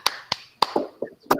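Sharp rhythmic hand claps of the Tepuk PPK clap chant, six quick bright claps in an uneven patterned beat, close and crisp, with no talking.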